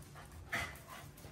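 A very small puppy pants and gives a brief whimper close by, a soft breathy sound with one short louder whine in the middle, set against quiet room noise.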